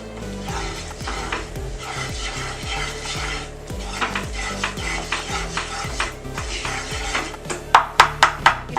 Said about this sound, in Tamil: பட்டர் நல்லா மெல்ட் ஆனதுக்கப்புறம் மைதாவை போட்டு அதோடு சேர்த்து நல்லா மிக்ஸ் பண்ணிடலாம்